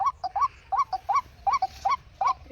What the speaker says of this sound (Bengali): বন মুরগির ভয়েস লাগিয়েছে আর ধরছে